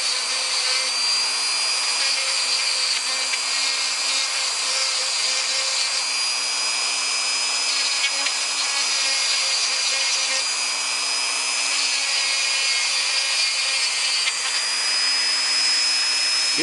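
A Dremel rotary tool fitted with a plastic-cutting bit reams out a plastic part, giving a steady, close, high-pitched whine with a constant grinding buzz that runs unbroken throughout, no voices.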